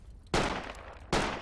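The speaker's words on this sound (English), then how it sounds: "I'm gonna fire on that guy just once. Just one shot." A single rifle shot in the military shooter Project Reality, a loud crack that decays into echo, followed by a second sharp report a moment later.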